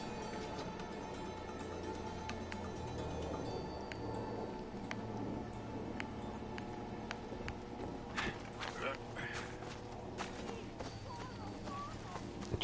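Horse hooves clop in Assassin's Creed Origins, a quick rhythmic clatter that runs throughout under game music and effects, with a few sharper clicks toward the end.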